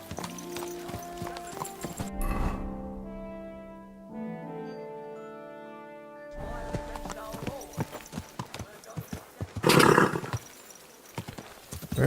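Rhythmic hoofbeats clip-clopping alongside a horse's whinny in the video game Kingdom Come: Deliverance II, with game music tones and a voice speaking over parts of it.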